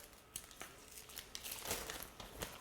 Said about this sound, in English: take off the paper.